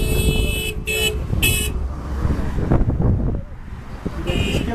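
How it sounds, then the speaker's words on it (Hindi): A car near Magnetic Hill in Leh approaches over rough road noise and gives three short horn toots in quick succession, then another toot at the end, with people talking nearby. "गाड़ी आ गई।"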